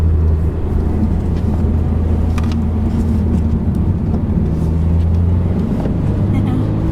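Steady, droning exhaust and engine hum from a 2022 Subaru BRZ with active sound control disabled, heard from inside the cabin while driving, continuous and fairly loud with road noise underneath.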